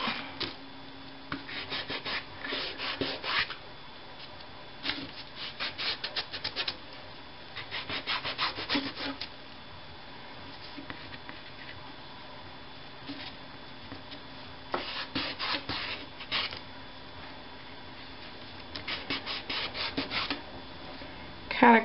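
Gray Gelato crayon rubbed across a cardboard journal cover in bursts of dry, scratchy back-and-forth strokes, close and moderately loud, separated by quiet pauses.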